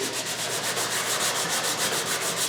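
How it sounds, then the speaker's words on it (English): Sandpaper wrapped on a foam block sanding a contoured wooden piece, heard close as a steady, rhythmic rasping of quick back-and-forth strokes with no talking. "instead of being on my wood block, I'm on my foam block, which lets me sand this contour more effectively"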